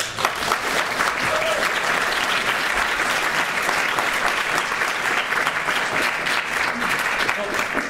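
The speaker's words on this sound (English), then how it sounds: "Please, a round of applause for Richard Cobbett." An audience at the AdventureX 2016 game conference applauds a speaker taking the stage, a full, continuous round of clapping that holds steady throughout, with a few faint voices mixed in.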